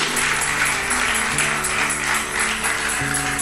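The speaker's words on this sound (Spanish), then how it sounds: "Dele un aplauso al Señor con todo su corazón" A church congregation claps for God in steady, sustained applause, with sustained musical tones running underneath.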